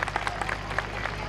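Brief applause from an audience at a birthday celebration for a newborn girl, a few distinct claps standing out over a low steady hum, short and fairly quiet.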